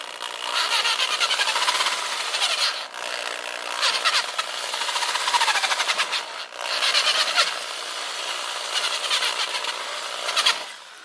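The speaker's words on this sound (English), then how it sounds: "should go up with the next size drill bit, but this is just copper, so it bores out pretty easily" Drill bit boring out a soft copper car battery lead for a lawn tractor, a loud continuous grinding whine with high squealing tones, briefly easing twice before biting in again, close by with no talk.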